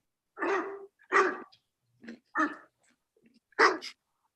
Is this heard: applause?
no